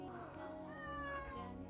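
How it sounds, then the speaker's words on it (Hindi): A pet cat in a small hillside home gives one drawn-out meow, close and clear, rising then falling over about a second and a half. "ये है मेरी बिल्ली को"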